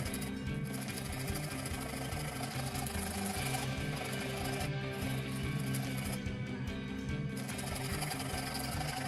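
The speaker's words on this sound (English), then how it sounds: "A rasp like this is great for concave shapes, like on the front side of the hilt." A wood rasp shapes the concave front of a wooden sword hilt with steady, continuous rasping strokes, close and even throughout, with no voices.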